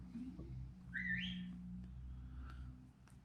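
A Roku Voice Remote Pro's remote finder plays a short electronic whistle chirp rising in pitch, followed by a fainter second whistle note, over a low steady hum.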